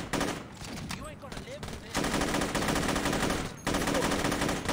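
Shotgun blasts ring out in the Xbox game Saints Row (2006), several sharp gunfire bursts with loud, crackling sustained stretches separated by short gaps, fairly close and dominating the scene.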